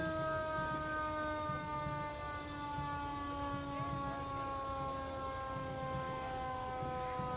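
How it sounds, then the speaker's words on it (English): Several police and fire sirens wail together at a parade in long, overlapping steady tones, loud and continuous throughout with no talking. "I don't know if they're going to be able to hear us over the sirens"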